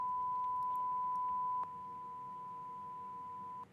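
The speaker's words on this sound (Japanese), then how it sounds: "前半がマイナス 10dB でなっているサイン波。 で、後半がマイナス 20dB でなっているサイン波になります" A steady pure sine-wave test tone plays continuously, louder at -10 dB for the first part, then dropping to a quieter -20 dB level and holding until the end.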